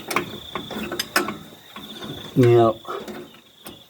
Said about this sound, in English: And start ratcheting it up.